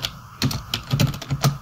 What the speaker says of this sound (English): You can start typing the Git command, the one that you want to get started with